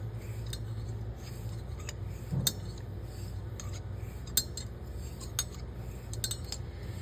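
A straight razor honed on an Arkansas stone gives faint, light metallic scrapes and occasional small clinks at irregular intervals over a quiet background, close up, with no talking.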